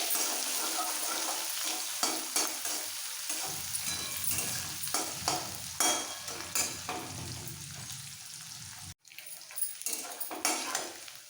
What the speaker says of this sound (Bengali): এবার এই ফোড়নের তেলে যে পেঁয়াজটা দেখিয়েছিলাম কাঁচা পেঁয়াজটা ছোট একটা পেঁয়াজ একটু ভেজে নেবো হালকা লাল করে